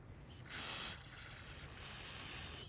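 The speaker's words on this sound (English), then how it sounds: "I'm going to try and spray fuel out the bottom and see if it'll come out somewhere else" A can sprays fuel toward a faulty primer bulb in a short hiss, faint and close, with a brief stronger burst followed by a softer steady spray.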